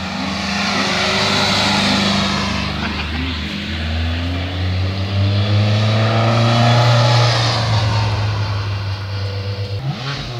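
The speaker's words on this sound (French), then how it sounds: "Cette voiture est équipée d'un moteur Alvis de 6 cylindres. De 3 litres." A historic car powered by a three-litre six-cylinder Alvis engine climbs a hill in the Vosges, its engine loud and near, revving up and down with strong harmonic drones across the whole stretch.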